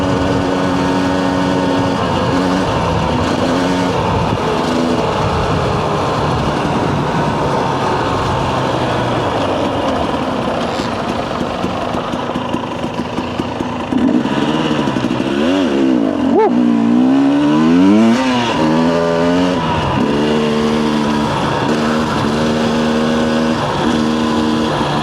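Two-stroke dirt bike ridden on a dirt trail, an engine revving up and down with rising and falling pitch, loud and close, and a sharp surge of throttle midway.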